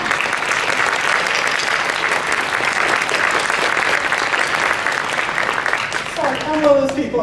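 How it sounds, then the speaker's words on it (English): Audience applause at a keynote during a town hall session of a public health summit on obesity, steady and dense clapping from a large crowd for about six seconds before thinning out as a voice begins speaking. "So, can we have a round of applause?"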